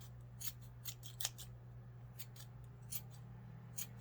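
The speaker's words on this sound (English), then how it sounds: "you just basically trim in the little excesses off until your pom-pom is nice and round" Scissors trimming the loose ends of a yarn pom-pom, a string of faint, crisp snips spaced irregularly over about four seconds, close but quiet above a low background hum.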